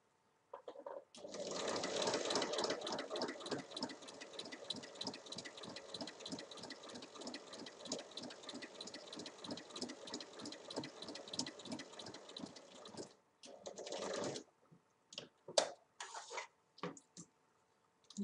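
A sewing machine runs steadily for about twelve seconds, stitching a compartment seam on a fabric car organizer, with a rapid even needle rhythm, close and clear, followed by a few short bursts.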